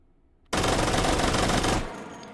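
A Vector SMG chambered in .45 ACP fires in H3VR, a VR game: after a quiet moment, a single rapid, loud, continuous burst of automatic fire lasts just over a second, then cuts off and fades into a short ringing tail.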